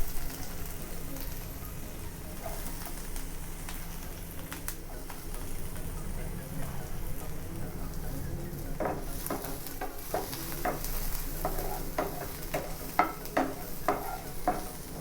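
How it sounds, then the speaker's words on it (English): Chopped garlic sauteing in a pan for a spinach cheese omelette, a steady soft sizzle with stirring scrapes and small pops throughout, growing busier near the end. "We will saute the chopped garlic. And then we will add"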